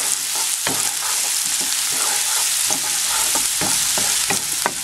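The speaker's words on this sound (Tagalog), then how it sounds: "Lutuin lang natin mabuti yung sibuyas." Onions fry in olive oil and salmon drippings for a sauce, a steady loud sizzle broken by repeated scrapes and taps of stirring in the pan.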